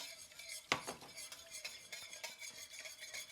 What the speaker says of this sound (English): Add the milk and keep on whisking